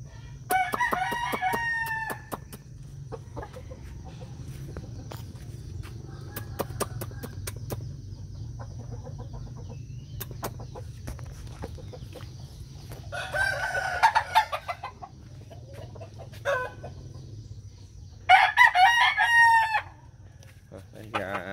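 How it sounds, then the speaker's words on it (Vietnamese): Fighting-breed chickens and roosters in coops cluck and crow in bursts, with a loud crow near the start and two more toward the end over a low steady hum, heard close by. "Tiếp theo là cái chuồng gà tơ, mấy chuồng gà tơ,"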